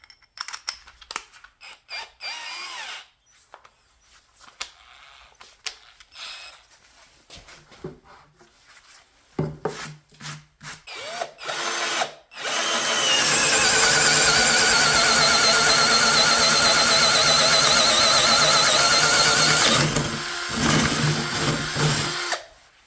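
A Deko 20V cordless drill whines at steady high speed on speed 1, boring a 1-inch hole through wood for several seconds after scattered handling clicks and knocks, then spinning down.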